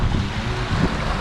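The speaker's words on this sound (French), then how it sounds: "Et là, le vent vient de se lever." Strong wind and waves roll past a sailboat running downwind under genoa and mainsail at sea, a loud, continuous rushing wash with low surging swells and no voices.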